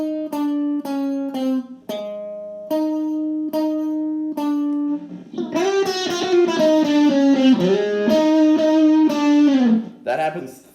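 Electric guitar plays the lick from the Killer Klowns from Outer Space theme: a run of short plucked repeated notes, then a denser sustained phrase with bends, close and clear with no talking over it.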